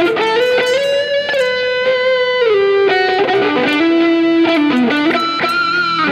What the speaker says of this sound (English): So let's put some reverb.